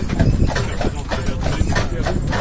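Horse hooves clip-clop through a town street as a horse-drawn carriage rolls along, a loud, close, steady rhythm of hoof strikes with no talking.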